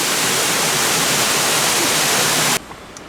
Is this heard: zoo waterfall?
yes